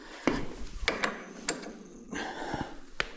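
A ratchet snugging bolts on a 2024 Ski-Doo Freeride snowmobile front end, sharp metallic clicks and clunks in an uneven series, close up in a quiet workspace.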